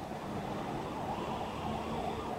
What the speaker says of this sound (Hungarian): pont most kezdődött egy nagy szirénázás itt mögöttem